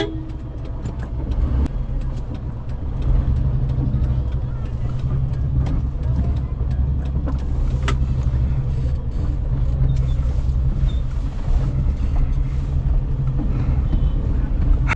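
A Tata Nano car drives along and swings through a U-turn, its engine a steady low rumble under continuous road noise while someone talks over it.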